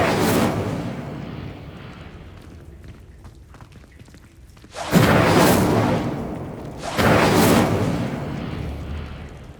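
The Incendio fire spell in Hogwarts Legacy goes off as two loud whooshing fire bursts, each flaring up and rumbling away over a couple of seconds, separated by a quieter gap with faint rustling.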